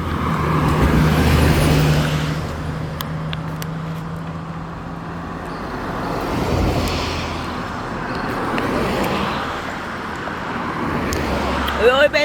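Road traffic in Jamaica rolls past in a steady line, cars and heavier vehicles rumbling near and far with rising and falling swells, under a warm outdoor ambience with occasional speech.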